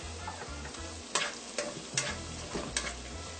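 Chopped tomato going into onions frying in a pan, a faint steady sizzle broken by several sharp spoon clicks and scrapes at irregular intervals, with no talk.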